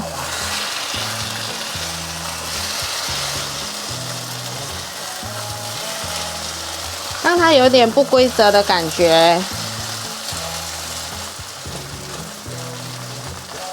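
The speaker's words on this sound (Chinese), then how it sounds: "稍微给它铺平，让它煎一下，固定形状。" A vegan tofu-and-egg-style omelette pan-fries with a steady, fairly loud sizzle throughout, while a brief burst of spatula scraping and pushing occurs midway; a voice speaks briefly over it.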